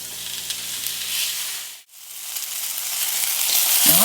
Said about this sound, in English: and then we'll get those frying